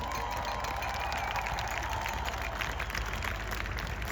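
A crowd at an outdoor International Women's Day march in Amsterdam applauds the organisers, a steady wash of clapping and cheering that holds at an even level for the whole stretch.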